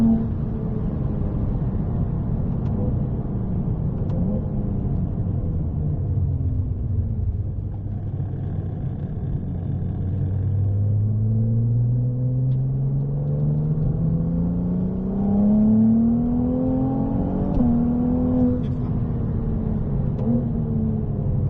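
From inside, the 820 hp Ferrari 298 GTB's engine rumbles loudly around the La Ferté-Gaucher circuit, pitch dipping low as it slows, then rising again through a long pull and shifting, with no voices heard.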